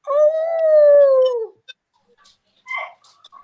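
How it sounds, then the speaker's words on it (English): Indoor dogs let out one long, wavering howl lasting over a second, loud and close. A short pause follows, then faint brief yips or whimpers. "No, it's the dogs."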